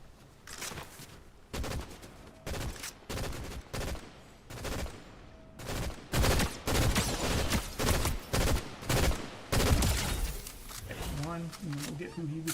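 Repeated gunfire in the Fortnite video game, loud bursts and rapid volleys coming in quick clusters across the whole stretch, with a player talking over parts of it.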